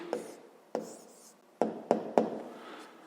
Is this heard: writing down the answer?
yes